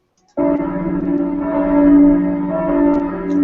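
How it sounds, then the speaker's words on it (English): Church bells ring out in a sustained, resonant wash of overlapping tones that starts abruptly and holds steady, sounding somewhat distant. "in the distance, you can hear what appears to be the sound of bells ringing somewhere"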